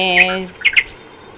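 A few sharp house sparrow chirps ring out close by, a quick pair of squeaky calls following an opening note.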